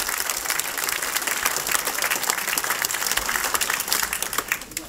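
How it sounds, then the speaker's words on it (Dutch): Loud, dense applause from a crowd honoring a volleyball team at a volunteer awards ceremony in Epe, sustained clapping throughout with no pauses. "Dames en heren, applaus voor het volleybalteam."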